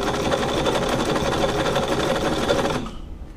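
A Brother VX757 sewing machine runs a blind stitch in one steady, dense mechanical whir, close and loud, then stops abruptly near the end.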